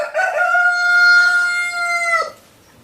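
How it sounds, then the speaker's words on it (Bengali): A fancy rooster crows at dawn, one loud, close, drawn-out cock-a-doodle-doo lasting about two seconds before fading into quiet; no talking. "ভোরবেলা মোরগের ডাক শুনতে কার না ভালো লাগে"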